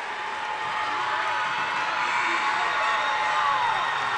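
A packed gym crowd at a girls' high school basketball game roars steadily, a sustained wash of cheering and shouting that holds loud throughout without pause.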